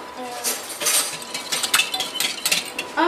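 A whisk beats savoury cake batter in a bowl, bright irregular metallic clinks and scrapes against the bowl in a quick uneven rhythm, close and fairly loud.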